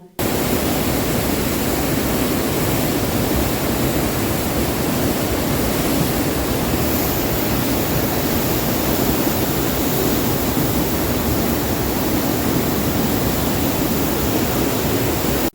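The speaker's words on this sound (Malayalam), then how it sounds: "ആ പുഴ കുത്തി ഒഴുകി പോകുന്നത് നോക്കി നോക്കൂ" A dense, steady roar of a river in torrent after the Meppadi landslide, loud and close, continuing unbroken with no voices.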